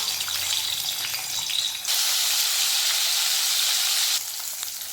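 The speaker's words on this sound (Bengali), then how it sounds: "কড়াইয়ে তেল দিয়ে দিয়েছি তেল গরম হয়ে গেছে এর মধ্যে মাছগুলো ছেড়ে দেব" Loud, steady sizzling of magur catfish frying in hot oil in a kadai, a broad hiss that jumps louder for a couple of seconds before easing back.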